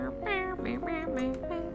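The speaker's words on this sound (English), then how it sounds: "I only see a few cats right now, but they seem utterly disinterested in everything we're doing." Cat meows in the Hustle Cat video game, several drawn-out, rising and falling mews in quick succession, close and clear, with no talk over them.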